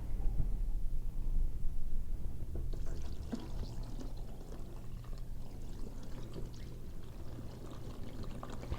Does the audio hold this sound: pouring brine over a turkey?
yes